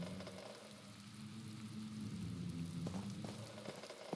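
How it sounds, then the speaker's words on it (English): Cold wind and rain come through a broken window in the video game Black Mirror, making a faint, steady hiss of rainfall with occasional soft drips. "The hole in the window lets cold wind and rain enter the room."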